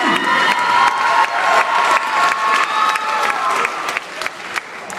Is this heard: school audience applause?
yes